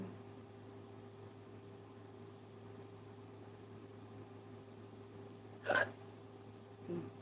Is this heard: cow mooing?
no